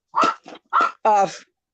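A dog barks three or four times in quick succession, loud and close, the last bark stretched into a longer whine-like yelp, then silence.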